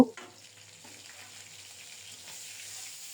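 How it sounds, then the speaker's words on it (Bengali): Fish pieces rubbed with salt and turmeric fry in hot oil, making a soft, even background sizzle after a brief clatter at the start, fairly quiet and with no voices. "তারপরে লবণ হলুদ মাখিয়ে গরম তেলে ছেড়ে দিলাম খুব ভালোভাবে মাছের পিসগুলো ভেজে নেব"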